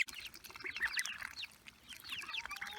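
Ducks and geese at feeding time, a few bright calls and quacks rising and falling over a couple of seconds, moderately near, with no talk.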